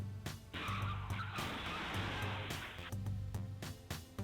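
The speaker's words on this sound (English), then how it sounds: "The truck plows through a whole line of traffic, taking out multiple cars along the way" A truck ploughs through a line of stopped cars, a sustained roar of crunching impact and scraping metal lasting a couple of seconds, set between repeated sharp bangs and thuds.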